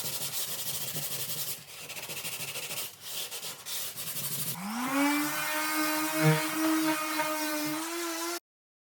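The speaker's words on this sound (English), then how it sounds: "The dried compound sands off easily and does a great job." Dried joint compound being sanded smooth over filled holes on a wide baseboard, a steady close rubbing scrape that gives way to a rising power-tool whine in the second half.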